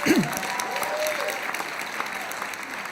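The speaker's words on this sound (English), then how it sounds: "Let's give the company a big round of applause there" Audience applause at a Nu Skin business briefing, a steady wash of clapping filling the room for a few seconds with a brief whoop or voice riding on top near the start.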